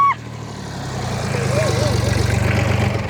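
A tractor engine idles with a steady low throbbing rumble that grows slightly louder after a brief dip, running continuously close by.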